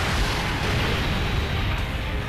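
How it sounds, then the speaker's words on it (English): A dense, rumbling blast in a Dragon Ball video game, heavy low-end roar and crackle sustained at steady loudness for a couple of seconds without pause. "It's right after this explosion right here."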